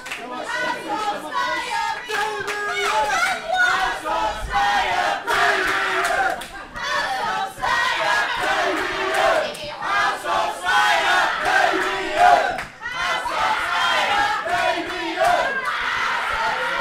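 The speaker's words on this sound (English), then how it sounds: "And crowd split here again. I'm not sure it's wise chanting for Damien." A wrestling crowd at a Suffolkslam show chants for Damien, loud rhythmic massed voices with claps and shouts rising and falling in waves, close and continuous.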